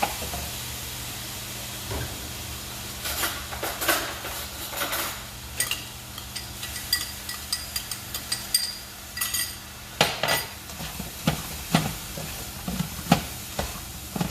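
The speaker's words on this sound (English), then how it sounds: "so cover that and keep stir frying it" Chow mein noodles with chicken sizzle steadily in a hot pan while a utensil scrapes and clinks against it in irregular stir-frying strokes, close up, with no talking.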